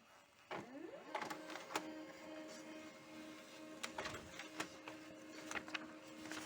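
A Pantum laser printer runs while printing an information page, humming steadily with a rising whir at the start. Sharp clicks and clunks from the mechanism come at irregular moments, close and fairly quiet, with no speech.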